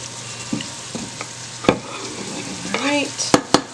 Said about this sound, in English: Get our sausage in. Let that get kind of happy with the onions and the peppers.